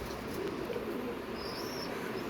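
Pigeons coo softly in a loft, a low murmuring burble with faint chirps and a brief higher whistle in the background, steady for a couple of seconds without talk.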